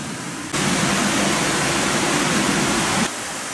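The steep, fast-flowing Kiyomasa River runs through a preserved old town on a rainy day in Uchiko, Ehime, its rushing water a loud, steady broadband wash that starts abruptly and stops after about two and a half seconds.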